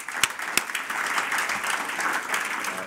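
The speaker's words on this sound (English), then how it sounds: "I'd like to give everybody here a big round of applause" Audience applause for program fellows at a culminating event, a steady dense patter of many hands clapping that holds at an even level throughout with a few sharper claps near the start.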